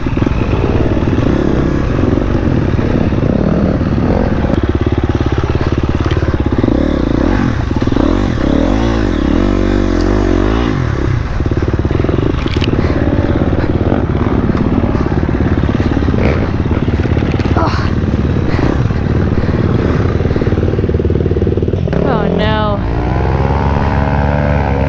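Motorcycle ridden down a steep, near-vertical trail, its engine droning loud and steady throughout with rough clatter and wind noise, pitch shifting as it rolls and brakes near the end.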